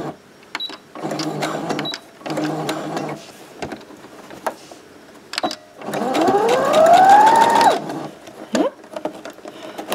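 A domestic sewing machine stitching fabric for a pencil case, running forward then in reverse in several loud mechanical bursts separated by short pauses, with a rising whine during the longest run.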